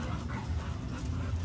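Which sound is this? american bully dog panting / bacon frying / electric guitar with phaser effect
american bully dog panting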